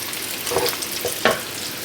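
Smashed potatoes fry in hot bacon grease in a pan, giving a steady close sizzle with a few brief louder spits and pops.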